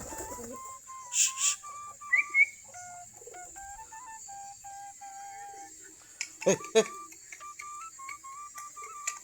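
Local-breed pigeons kept in a loft of some forty pairs make soft, faint coos and whistling calls amid scattered chirps, with a few sharper bursts and a high steady background tone.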